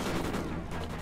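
Gunfire from the Call of Duty: Ghosts video game on PS4 sounds as a faint, muffled, rumbling burst of shots amid dense background noise, with no voices.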